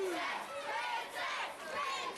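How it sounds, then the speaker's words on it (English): Wrestling crowd at an EMERGE Wrestling Showcase chanting "Princess" in rhythmic swells, with three rises in the chant, heard from a distance. "Princess again, says the crowd"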